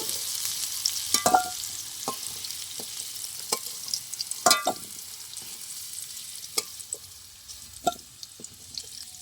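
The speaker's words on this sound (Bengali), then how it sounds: "আলুগুলো একটু লাল লাল করে ভেজে নেব" Potato pieces fry in oil with turmeric and salt, a soft, steady sizzle punctuated by sharp clinks and scrapes of a spatula stirring in the pan at irregular intervals.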